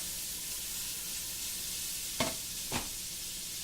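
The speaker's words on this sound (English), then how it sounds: "That's sauteing nicely." Food sizzles softly and steadily in a pan, with two brief clanks of a utensil stirring partway through.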